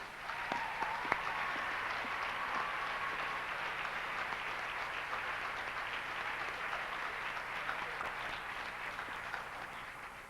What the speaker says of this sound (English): Ladies and gentlemen, please join me in a round of applause for Miss Lori Creever